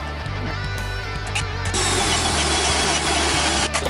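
A Forstner bit drills a hole through a wooden farm table leg, a loud steady motor whine with grinding cutting noise that grows denser partway through, close up.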